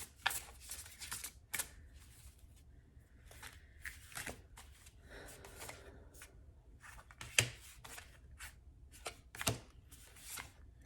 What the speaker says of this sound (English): I'm just going to shuffle it one more time.